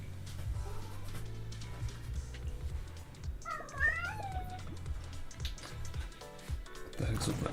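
Cat in the video game Zenless Zone Zero gives a short rising meow midway, heard among soft game sounds and dripping noise, with talking around it.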